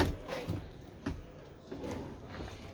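Kitchen drawers under the counter of a 2024 Randger camper van slide open and shut, several soft thumps and short sliding rubs spaced a moment apart, close by.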